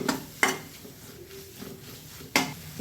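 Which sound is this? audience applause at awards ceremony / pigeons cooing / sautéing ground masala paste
sautéing ground masala paste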